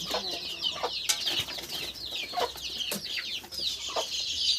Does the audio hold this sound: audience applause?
no